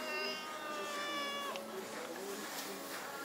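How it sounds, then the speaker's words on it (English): A cat meows in a drawn-out, wavering cry close by indoors, followed by a few softer, shorter mews, with faint background noise and no overlapping talk. "Look at you know how to meow."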